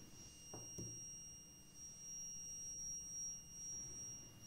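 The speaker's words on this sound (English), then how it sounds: "The buzzer immediately starts buzzing." A small electric buzzer powered by a 9-volt battery sounds a continuous steady high-pitched tone, close and clear, with a few faint handling clicks underneath.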